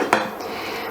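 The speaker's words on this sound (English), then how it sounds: "I'm gonna be adding my lid" A lid set down on a cooking pot of simmering BBQ jackfruit gives one short, close metallic clack over a low kitchen hum.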